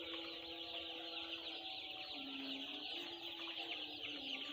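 Chickens kept in a winter poultry shed cluck softly and intermittently over a steady background hiss, faint and somewhat distant, with no voices.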